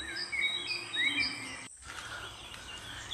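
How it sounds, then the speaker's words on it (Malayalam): Birds chirp and trill in a garden in Wayanad, short high calls repeating over a steady insect buzz, moderately close. After a brief dropout the calls go on more softly. "നല്ല കിളികളുടെ ഒച്ചയും നല്ല രസമുണ്ട് കേട്ടോ കേൾക്കാനായിട്ട്."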